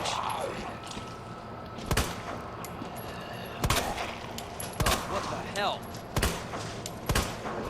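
Shotgun blasts ring out in Resident Evil 2 Remake, about six sharp booming shots spaced a second or so apart, each with a short decaying tail over a quiet in-game ambience.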